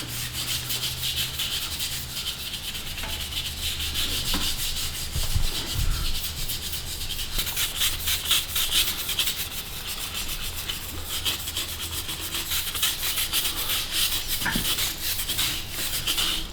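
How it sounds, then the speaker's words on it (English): Steady close rubbing and scrubbing as 3-in-1 oil is worked into the knurling of a rusty barbell more than 20 years old, a continuous rasping friction that keeps going with occasional louder strokes. "So right now I'm just trying to work the 3-in-1 oil into the knurl."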